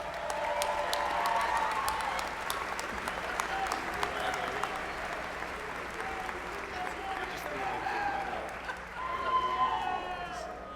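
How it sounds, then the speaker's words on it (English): Audience applause at a university luau, a crowd clapping steadily throughout with scattered cheers, swelling again near the end. "Let's give them a big round of applause."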